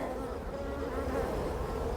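Dense, steady buzz of a honey bee colony at an open hive during re-queening, close and continuous for the whole stretch without pause.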